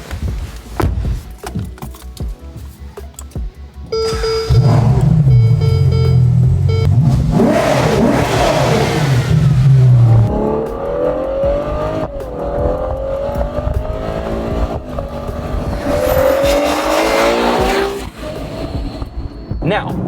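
A Ferrari 812 GTS, a front V12 convertible, rumbles and then accelerates hard, the engine note climbing through several rising sweeps with shifts between them, loud and close amid road noise.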